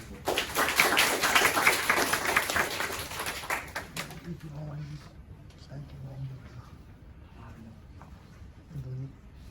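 A room of audience members at a university Toastmasters club meeting applauds a speaker. The dense clapping is close and fairly loud, then fades out about halfway through, followed by quiet room sound and a few faint noises.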